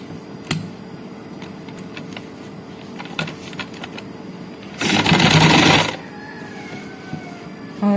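A sewing machine stitching an umbrella frock runs in one loud, rapid burst of about a second, set among scattered clicks and handling noises from fabric and machine parts.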